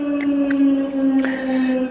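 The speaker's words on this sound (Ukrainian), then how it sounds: "Сирена говорить, що зміна закінчилася." A port siren sounds the end of a work shift with a steady, sustained tone held throughout, loud and close, with faint higher chirps over it and no talking.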